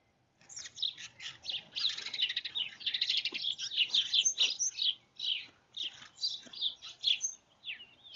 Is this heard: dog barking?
no